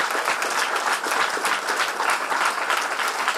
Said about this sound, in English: A big round of applause for all the students.